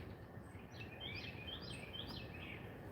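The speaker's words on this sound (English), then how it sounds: "I love to hear the birds sing." Faint birdsong in the distance, repeated chirping phrases over a steady low outdoor rumble, with no voices.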